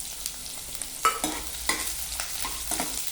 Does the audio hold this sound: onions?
yes